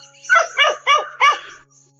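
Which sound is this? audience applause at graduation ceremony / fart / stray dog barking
stray dog barking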